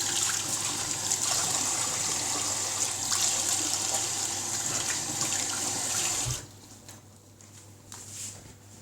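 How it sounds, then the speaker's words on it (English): Running tap water splashes steadily over hands being rinsed at a kitchen sink while cooking a Middle Eastern chicken and vegetable bake, then the flow cuts off abruptly, leaving quieter room sound with faint clatter. "so I'll just give my hands a quick rinse"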